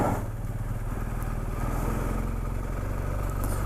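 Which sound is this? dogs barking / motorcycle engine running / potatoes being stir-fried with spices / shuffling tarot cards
motorcycle engine running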